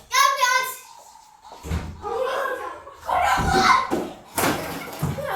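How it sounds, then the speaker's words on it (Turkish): A door being broken and slammed in a home, with a couple of heavy thuds and bangs amid loud, excited children's voices and scuffling. "Kapıyı kırdık kapıyı kırdık."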